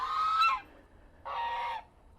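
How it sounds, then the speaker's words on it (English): A guard goose honks loudly in two long, harsh squawking bursts separated by a short pause, close by at a backyard chicken setup. "you can hear the goose, the guard goose, just squawking away"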